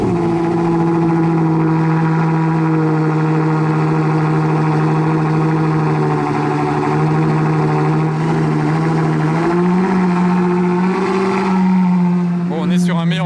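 A Ferrari Novitec with open exhaust valves rumbles loud and close at a steady idle on a Monaco street, pitch lifting slightly in a brief rev near the end.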